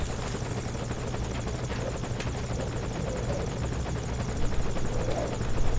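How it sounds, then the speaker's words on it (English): A helicopter in the video game Metal Gear Solid V: Ground Zeroes gives a steady, close rotor drone that holds evenly throughout and swells slightly toward the end, with no talk over it. "Once this helicopter lands, I'm gonna just blow that shit up"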